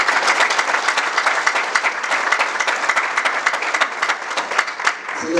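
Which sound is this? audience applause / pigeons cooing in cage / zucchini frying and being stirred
audience applause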